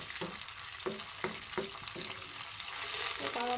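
Coconut milk sauce for green chili fish is stirred in a pan toward a boil, with a soft steady simmering sizzle and a few distinct clinks of the utensil against the pan.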